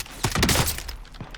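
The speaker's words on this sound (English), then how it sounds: "Oh, getting shot at." Gunfire in Call of Duty Warzone, heard as a brief, loud burst of overlapping shots that quickly dies away, with no voices.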